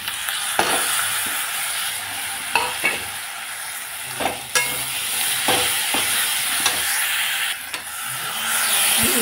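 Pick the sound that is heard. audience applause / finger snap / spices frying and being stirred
spices frying and being stirred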